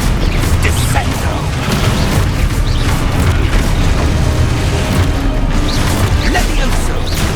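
Descendo spell effects in the video game Hogwarts Legacy play as loud, dense booms and crashes over rumbling combat audio, with a voice calling out spells amid the steady clamor.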